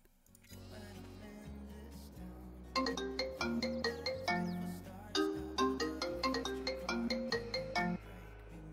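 A ringtone in Farming Simulator 22 plays a steady repeating electronic melody over a low sustained tone, loud and close, ringing for several seconds with no talk.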